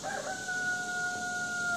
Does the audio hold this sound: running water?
no